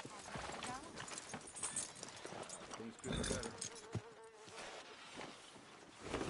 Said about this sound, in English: Are you gonna mount that new horse of yours or not?